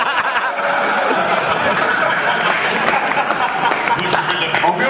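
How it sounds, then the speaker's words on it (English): Audience clapping at a live tech podcast show, scattered applause mixed with chatter and light laughter from the crowd, steady and fairly loud, with talk over it. "I don't know why you're clapping off."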